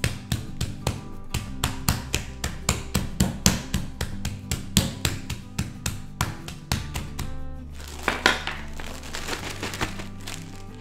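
Mallet pounding chicken breast flat: a long run of steady, rhythmic thuds up close, fairly soft, slowing and tapering into a few scattered, rustling knocks near the end.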